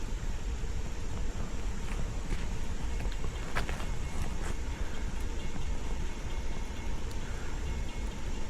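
A fast train approaches from a distance in the rain, a steady broad rumble with faint clattering and rushing noise that stays fairly constant throughout.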